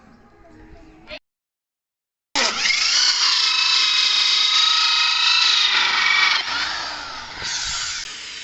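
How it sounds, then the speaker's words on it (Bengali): A power drill bores holes during a homemade lighting build, a brief burst coming first, then a short silence, then a loud, sustained high whine that shifts pitch slightly as the bit works through the material. "গাইস আমরা এগুলো ফুটো করে নিচ্ছি, সেই লাগবে।"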